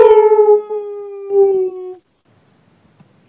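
A person imitates a wolf with a loud, close howl that slides downward for about two seconds, briefly wavering partway through, then cuts off into near silence.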